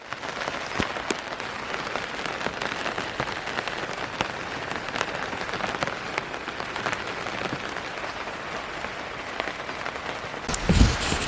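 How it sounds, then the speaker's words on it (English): Steady rain patters on the covering of a garden polytunnel in a UK summer, a dense, even hiss of drops with occasional louder taps, continuous throughout with no voices. "You probably hear that it's started to rain"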